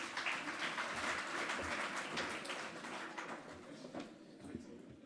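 Audience applause after a speech at a school governing body elections launch, a steady crowd clapping that carries through the whole stretch at moderate level with some voices mixed in.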